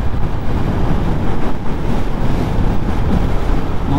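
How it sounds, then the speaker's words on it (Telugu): Strong wind roars and buffets against the microphone, a loud continuous low rumble with gusty surges throughout. "గాలి భయంకరంగా వస్తుంది."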